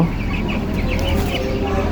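Chickens cluck and fowl calls rise over a steady farm background while a hen with a marked head is weighed, the calls repeating irregularly at close range.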